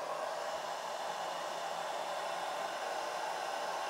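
A resistive hair dryer running on a FOSSIBOT F800 portable power station gives a steady, loud whooshing roar of fan and air, unbroken and close, with no talk.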